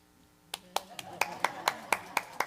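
Hand clapping from a speaker on a church stage, about nine sharp claps in a steady rhythm, close and fairly loud, starting after a brief quiet moment with faint room noise beneath.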